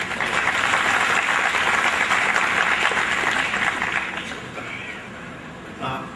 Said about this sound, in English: you can join me in applauding them